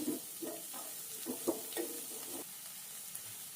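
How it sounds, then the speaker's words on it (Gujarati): Onion sautés in oil in a pan as a quiet, steady sizzle, with a few soft stirring scrapes in the first two seconds and then a gentle continuous hiss. "કાંદો કાંદાને બરાબર તેલમાં સાંકળી લઈશું એક મિનિટ માટે"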